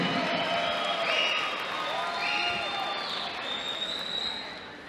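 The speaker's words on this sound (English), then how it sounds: "let's leave a big round of applause for these combatants leaving everything inside the ring" Arena crowd at a welterweight boxing bout in Stockton's Civic Auditorium cheers and applauds steadily for about five seconds, a broad wash of clapping and voices with some tonal shouts rising over it.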